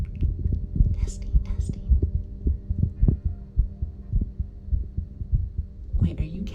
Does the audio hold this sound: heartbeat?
yes